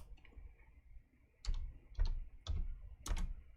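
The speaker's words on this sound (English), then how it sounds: "I'm typing with one finger and smoking with another." Slow one-finger typing on a computer keyboard, a handful of separate clicks spaced about half a second apart, close by, with no talk.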